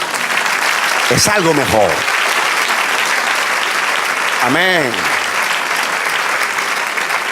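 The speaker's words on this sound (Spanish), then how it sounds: "Denle un aplauso al Señor." A church congregation applauding the Lord, a steady bed of many hands clapping that runs for several seconds while a voice speaks briefly over it twice.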